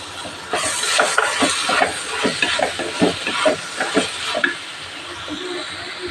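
Tomatoes dropped onto frying onions in a pan for a roasted-coconut chicken curry set off a loud, steady sizzle and hiss, with a run of stirring scrapes and spatters through the middle before it settles.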